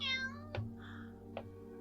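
A cat gives a faint, thin meow followed by quieter short mewing sounds, heard softly over a low steady hum.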